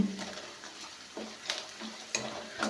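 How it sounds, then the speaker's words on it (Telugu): Onions and green chillies fry in a pan at a faint, close sizzle, with occasional soft scraping stirs and light clinks of a utensil against the pan, and no voices. "ఈ విధంగా వేపుకోవాలి ఇవి ఆనియన్స్ గోల్డెన్ కలర్ వచ్చే వరకు"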